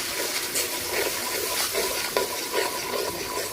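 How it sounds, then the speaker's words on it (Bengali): Spice masala of chili, turmeric and coriander powder with a splash of water being stir-fried in a pan, a steady wet sizzle with continuous scraping and stirring, close and alone. "অল্প জল, ভালো করে কষাই নিব মশলা"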